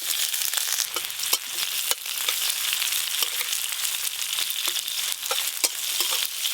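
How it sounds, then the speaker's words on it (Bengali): Chopped onions fry in hot oil with black cumin seeds, a steady dense sizzle with frequent sharp pops and crackles and occasional stirring scrapes, close and continuous throughout. "পেঁয়াজ কুচিগুলো একটু লাল লাল করে ভাজবো"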